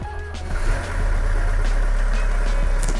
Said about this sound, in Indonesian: ini suaranya mobil diesel zaman dulu, bukan mobil-mobil diesel kayak sekarang